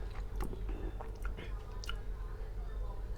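Ripe Monthong durian from Sisaket's volcanic area being eaten up close, soft wet chewing and smacking sounds with faint murmured voices under a steady background.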